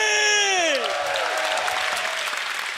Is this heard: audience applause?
yes